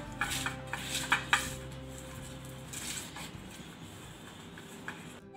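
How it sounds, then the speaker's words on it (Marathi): A metal cooking pot is set down on the stove to heat for a no-oven rava cake, with a few sharp clinks and knocks near the start, then quieter clatter. "हे आपण पातेलं गरम करत ठेवलं आहे"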